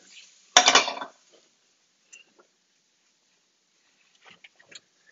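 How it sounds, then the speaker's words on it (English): A spoon clatters sharply against a pot while stirring a meal-kit dish with broccoli and spinach, one loud scraping burst followed by a few faint, scattered clinks. "Just give that a little stir."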